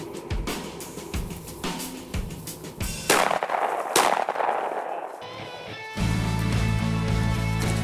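Sharp shotgun blasts crack several times at close range during a quail hunt with bird dogs, separated by brief pauses and followed by rustling field noise.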